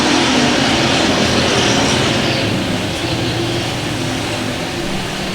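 Race car engines roar at the green flag for IMCA Hobby Stocks at I-35 Speedway, a loud, sustained broadband rumble of many engines that fills the track and holds steady, easing slightly toward the end, with no talk over it.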